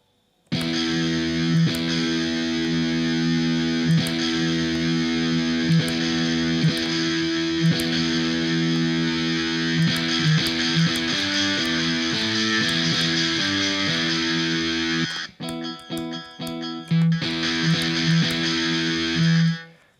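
Electric guitar played through a HoRNet HDS1 distortion pedal: thick, saturated sustained notes and chords ring out loud and continuous, with a brief choppy break near the end before the heavy tone returns.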